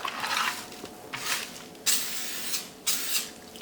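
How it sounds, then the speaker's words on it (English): Cooking spray hissing in four short bursts over seasoned baby back ribs, each spray loud and close with brief pauses between. "Finish off with cooking spray."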